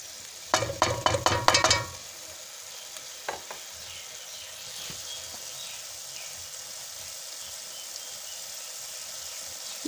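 Mustard greens saag being stir-fried in a pan: a quick run of loud scraping, stirring clatters over the first two seconds, then a faint, steady sizzle with an occasional soft knock.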